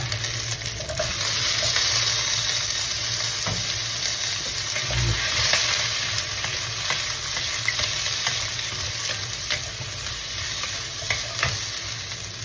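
Red, yellow and green bell peppers stir-frying in a hot pan for sweet and sour spare ribs, a steady loud sizzle broken by scraping stirs and clatters throughout, with no talking.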